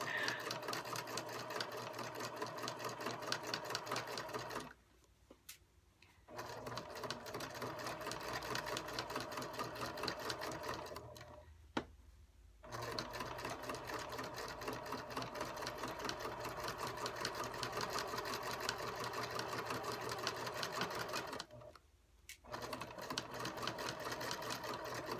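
A sewing machine stitches rickrack onto a fabric basket, running steadily in three long stretches broken by short pauses, close and clear with no talking.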